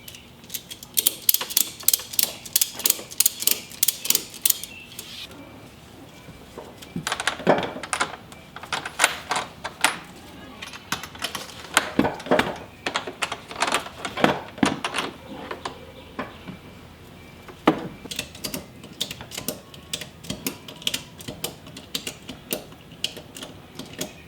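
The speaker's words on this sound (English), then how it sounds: "I've tightened up the back ratchet as much as I possibly can" A ratchet strap being tightened to hold a dog crate in a vehicle: rapid bursts of sharp mechanical clicking, close and fairly loud, in repeated rounds separated by short pauses.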